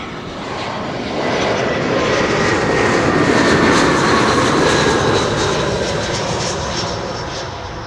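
An airliner comes in to land on a runway at Schiphol Airport, a broad engine roar swelling over a few seconds, peaking, then slowly easing away at moderate distance.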